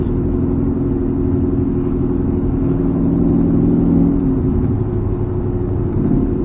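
A Ford Mustang with a very loud exhaust cruises at 2,500 RPM in fourth gear, giving a constant deep burbling drone from inside the car with no talking.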